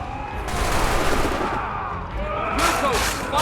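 Musket volleys crackle through a battle in Assassin's Creed III, dense overlapping gunfire rolling continuously with shouted voices mixed in the din.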